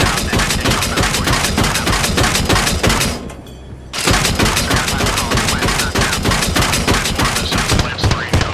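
A friendly LAV in the video game Arma Reforger fires its autocannon in loud, rapid sustained bursts, with a brief pause before the fire resumes, close and dominant over everything else.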